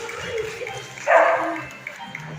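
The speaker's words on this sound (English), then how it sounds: "our first dog is an adorable 1-year-old border collie all the way from Colorado" A 1-year-old border collie performing at a dog show gives one short, sharp bark that stands out clearly over a quieter background with faint voices.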